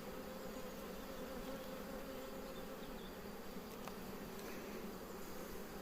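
Honey bees hum steadily around a hive during a honey harvest from acacia supers, a faint, even buzzing swarm with no voices over it.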